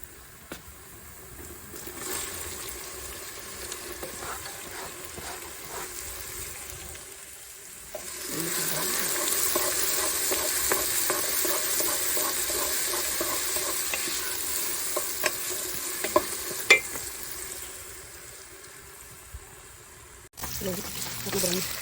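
Onions frying on a new stove while being stirred, with a continuous sizzle that grows louder partway through and occasional scraping clatters, and faint voices now and then.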